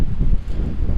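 Strong gusts buffet an outdoor microphone in a continuous low roar, swelling and dipping over a high-wind drone flight in roughly 40 mph winds.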